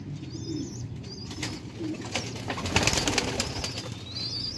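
Sialkoti pigeons keep up a low rolling coo while wings beat in bursts, loudest toward the middle, and thin high calls drift above the flock.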